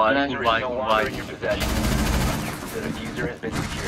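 Rapid bursts of automatic gunfire in the video game Rainbow Six Siege, loud and dense across the whole stretch, mixed with game sounds and a player's voice talking over the shooting.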